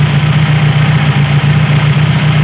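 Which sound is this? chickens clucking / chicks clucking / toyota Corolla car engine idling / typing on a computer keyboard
toyota Corolla car engine idling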